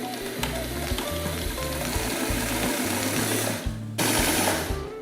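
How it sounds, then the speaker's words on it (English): A sewing machine stitching interfacing and exterior fabric for a face mask, running steadily and close up with a rapid mechanical rhythm, briefly pausing near the end before starting again. "I'm going to sew it a 1/2 inch"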